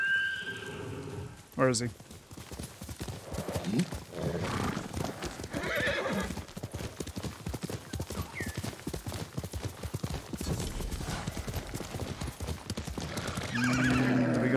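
In Ghost of Tsushima, the horse Roach answers a call with a whinny and then gallops, a steady clip-clop of hooves that runs on with game sounds while someone talks over it.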